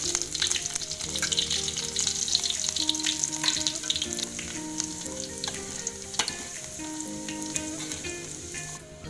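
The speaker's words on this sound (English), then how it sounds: "Frying garlic and oil until nice smell." Garlic frying in oil in a frying pan, giving a loud, dense, continuous sizzle with crackling pops and faint stirring, mixed with background music and no talking.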